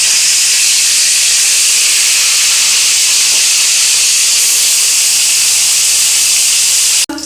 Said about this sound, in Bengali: এখন আমি এক এক করে মাছগুলো ভেজে উঠিয়ে নেব।